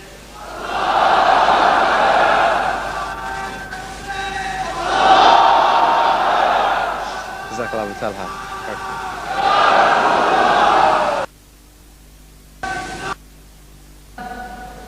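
A large conference crowd in 1994 chants takbir in several loud, rising bursts of collective shouting, separated by short pauses, ending in near silence with a brief final shout.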